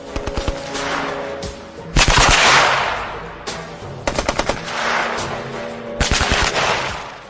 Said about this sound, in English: Firing in short bursts is the Army-approved machine gun technique.